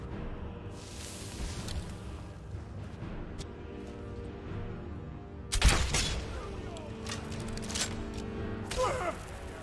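Fire bolt spell cast in Skyrim: one sudden, loud fiery burst cuts through a busy combat soundscape, followed by a few lighter crackles, with some voices faintly underneath.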